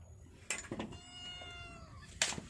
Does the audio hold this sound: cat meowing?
yes